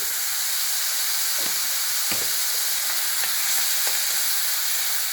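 Onions sautéing in a pan for tapioca bonda, giving a steady, loud hiss and sizzle throughout with occasional soft scrapes of stirring and no talk.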